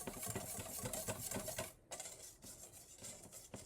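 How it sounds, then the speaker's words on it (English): Chia pudding with chocolate, strawberry and protein powder being whisked in a bowl: quick, soft rhythmic scraping and tapping, quiet and close, with a brief pause midway. "So we're just whisking it."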